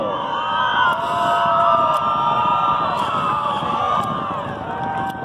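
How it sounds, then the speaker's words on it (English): Crowd at a high school girls' soccer match cheering, whooping and screaming for the Hoover High School Cardinals as 2019 Division 5 champions, loud sustained shrill cheering with scattered claps, fairly close. "please join me in applauding your 2019 Division 5 champions, the Cardinals of Hoover High School"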